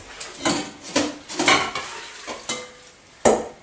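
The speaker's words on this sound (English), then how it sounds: "we're going to add the stock, and we're going to leave the vegetables and the stock to simmer for about 10 or 15 minutes" Vegetables cooking in a pot with stock, with repeated close scraping and clattering from stirring against the pot. Soft sizzling runs between the knocks, which come irregularly.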